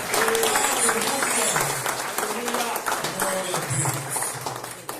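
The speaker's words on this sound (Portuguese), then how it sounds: "Aplauda o Senhor Jesus. Bem forte." A church congregation claps and cheers loudly during a worship service, the dense applause running under a voice and musical tones throughout.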